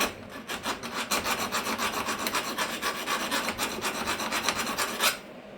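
A hand tool rasps along the edges of fabricated metal parts, deburring them in quick repeated strokes, a close scratchy rhythmic filing that stops abruptly at the end.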